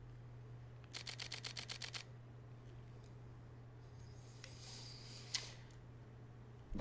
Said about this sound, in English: That shutter sounds amazing